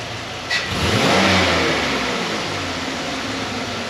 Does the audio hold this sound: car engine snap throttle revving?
yes